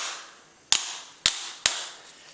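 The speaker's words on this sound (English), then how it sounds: "when I open that one up, it opens very easily to the point where it's fully extended" Three sharp metallic snaps ring out one after another as a Mangroomer Ultimate Pro back shaver's folding handle opens, each crisp click trailing off into a faint hiss, close up and fairly loud.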